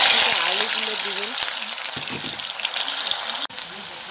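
Cut potatoes drop into hot oil with cumin and garam masala and fry with a loud, bubbling sizzle while someone talks over it.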